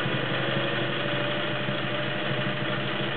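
A vintage all-metal, gear-driven Singer 401A sewing machine runs a straight stitch, giving a steady, even mechanical whir that continues unbroken at moderate level, with no voices.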